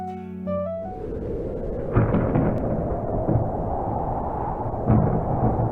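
Thunder rumbling through a village during a sudden storm, a loud, continuous low roar that swells in at once and then rolls on steadily, with heavier cracks and surges partway through, heard alone with no talk.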